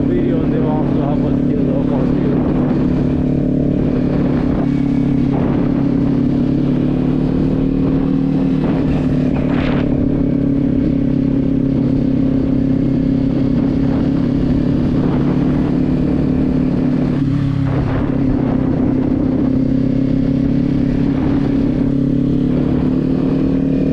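A motorcycle ridden in cold weather hums with a steady, continuous engine drone close to the mic, loud throughout with light wind and rattle over it.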